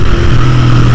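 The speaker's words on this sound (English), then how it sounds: "it just really likes to glide through the corner and then accelerate out really nicely" A Royal Enfield Interceptor 650 motorcycle accelerates out of a corner, its engine giving a steady, close droning note with a low hum held for about a second.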